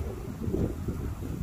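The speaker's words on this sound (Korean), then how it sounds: "바람이 너무 세가지고" Strong wind buffets the microphone outdoors at the royal tomb of Queen Jindeok of Silla, giving a steady, loud low rumble with slight surges and no voices.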